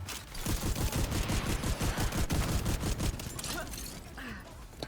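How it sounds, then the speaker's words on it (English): Sustained automatic turret fire in a video game, rapid dense bursts through most of the stretch, loud and continuous, thinning slightly toward the end under faint background game noise. "Oh wait, that's the turret downstairs actually."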